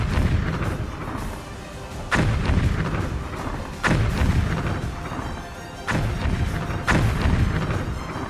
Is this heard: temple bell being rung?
no